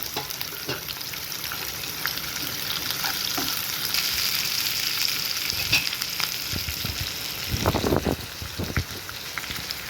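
Curry leaves and spices fry in hot oil for bagara rice, browning with a steady, close, dense sizzle and crackle; a few louder pops and stirring knocks come near the end.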